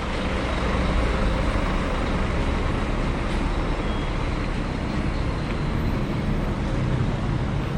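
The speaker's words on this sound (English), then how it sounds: "I'm gonna try to pass this loud bus." A loud bus rumbles past on a street in Puerto Aventuras, its engine and road noise forming a dense, steady roar that fills the whole stretch with no talking.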